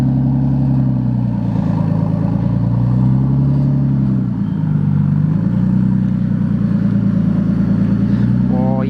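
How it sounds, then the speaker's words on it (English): A Nissan R32 drift car runs outdoors on a sunny day, its engine droning loud and close with a steady, slightly wavering pitch throughout. "But finally get to drive it outside on a sunny day and see how it looks."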